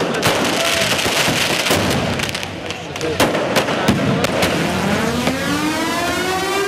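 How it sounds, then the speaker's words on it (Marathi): Firecrackers burst in a loud, irregular string of sharp cracks at an outdoor election victory celebration, mixed with crowd noise and passing traffic. "फटाके फोडले जात आहेत।"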